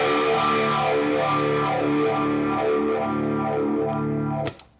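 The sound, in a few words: guitar through phaser into distortion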